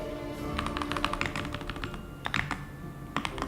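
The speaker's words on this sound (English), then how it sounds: "I feel like my typing's shaking the camera." Fingers type steadily on a computer keyboard during a game development session, a close run of quick irregular key clicks with short pauses, alone and fairly loud.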